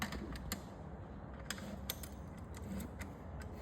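Bolts being tightened on a Ford Barra to LS alternator bracket: a run of faint, sharp metallic ratchet clicks and taps at irregular intervals over a steady low background hum.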